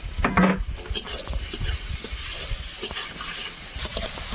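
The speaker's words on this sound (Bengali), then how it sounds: "আমটা একটু ভালো করে ভেজে নেব" Raw mango pieces with salt and turmeric frying in oil with onion and five-spice, a continuous sizzle under busy stirring and scraping clatter from a utensil against the pan.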